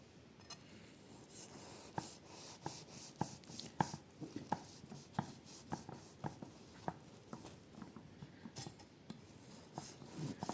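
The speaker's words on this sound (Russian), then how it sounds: "Режу прям горячие еще." A knife cuts through hot, freshly baked Ossetian pies filled with potato and cheese, giving a steady series of crisp taps and crunches against the board, with soft rustling between strokes.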